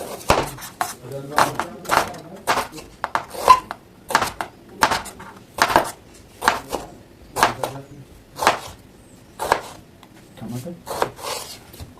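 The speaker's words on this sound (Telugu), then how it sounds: "ఇలా అయితే అన్నీ కట్ చేసుకోండి సన్నగా" A knife chopping vegetables thinly on a board, about twenty crisp, separate strokes in an uneven rhythm, close and clear, with quiet gaps between the cuts.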